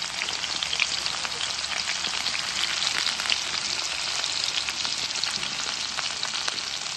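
Cumin seeds and garlic sizzling in hot oil in a pan, a steady close frying hiss with scattered crackles and pops throughout, no voices.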